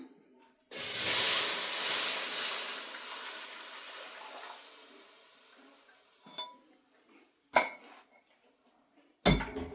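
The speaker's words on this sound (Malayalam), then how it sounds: "ഇനി നമുക്ക് ഇതിലേക്ക് ശർക്കര പാനി അരിച്ചൊഴിക്കാം" Hot jaggery syrup is strained and poured into poha in a pan, producing a loud hissing rush that fades over several seconds, followed by a few sharp utensil clinks.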